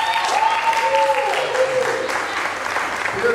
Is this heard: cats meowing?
no